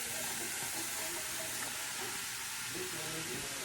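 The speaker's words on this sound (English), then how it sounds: "get the oil nice and hot, and then dump in your onions" Onions hitting hot oil in a pan give a steady, close hiss and crackle of frying that runs unbroken throughout, with faint low clatter underneath.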